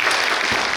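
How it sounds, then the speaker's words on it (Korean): An audience claps at a book launch event for an educator, giving a brief burst of dense applause. "박수 한번 주시죠"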